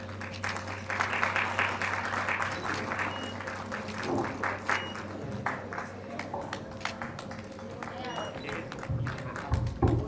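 Scattered clapping from a crowd at an awards ceremony, moderately close and uneven, with voices talking throughout and a steady low hum underneath.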